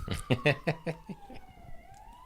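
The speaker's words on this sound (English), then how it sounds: "It's police sirens." A police siren wails outside, its pitch sliding and fading as it passes, heard without talk over it.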